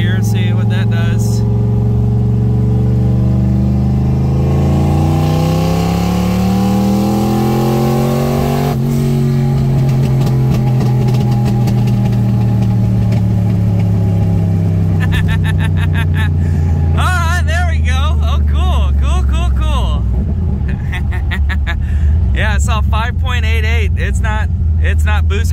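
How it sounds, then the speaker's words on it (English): A turbocharged 1986 Ford Mustang Fox Body with a racing wastegate accelerates hard in third gear, its engine note climbing steadily as the car pulls. The engine is loud and close, and a driver talks over it. "let's see if I can shift in third. We'll try third gear, see what that does."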